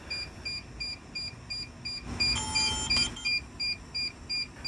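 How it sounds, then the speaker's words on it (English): Pairing beeps from a DJI RC controller and Air 2S drone, a steady series of short, high electronic beeps repeating at an even pace, with a brief busier burst of tones in the middle, alone and close. "hold the power button down until you hear the pairing beeps"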